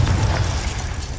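A single loud, rumbling explosion from the Confringo blasting curse in Hogwarts Legacy, a dense low-heavy blast that fills the short moment and slowly fades.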